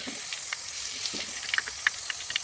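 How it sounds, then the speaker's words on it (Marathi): Potato wafers double-frying in hot oil over a low gas flame give a steady, quiet hiss with faint scattered crackles and small pops throughout, no voices. "याला आपण आता डबल फ्राय करणार आहोत."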